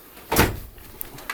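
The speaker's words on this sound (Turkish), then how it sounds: "bu kapı kapanmış lan" A door closes somewhere nearby at night with a single muffled thump, followed by a couple of faint clicks in an otherwise quiet space.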